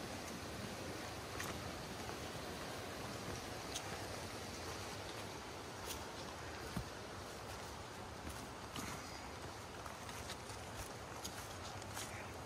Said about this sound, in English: I love listening to the sound of the river or stream.